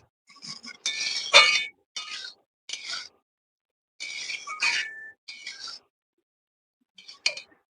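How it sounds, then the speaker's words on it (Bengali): Poppy seed paste stirred into ridge gourd and potatoes in a pan: bursts of metallic clinks and scraping from the utensil, close and fairly loud, separated by short pauses. "পোস্তটা দিয়ে একটু ভালোভাবে নেড়ে নেব। পোস্তটা সমস্ত ঝিঙে আর আলুর সাথে মিশিয়ে দেব।"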